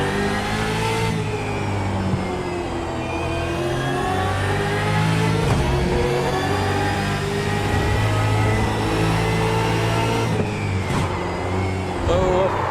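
A racing car engine in the iRacing sim revs and sweeps up and down through the gears, loud and continuous with rising and falling harmonic tones, mixed with a voice talking over it.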